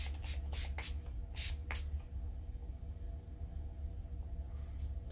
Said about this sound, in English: And I'm just going to spray my face again.